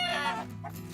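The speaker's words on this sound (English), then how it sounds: "I put the chicks outside to get familiar with the other chickens" A chicken gives a short, clear cluck at a homestead coop in late fall, close and fairly loud, followed by a fainter second call.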